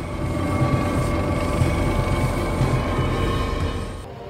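Army Black Hawk helicopters from an aerial combat brigade fly over a stadium in Maryland. A loud, steady rotor thrum and engine whine fill the air continuously, then ease slightly at the end.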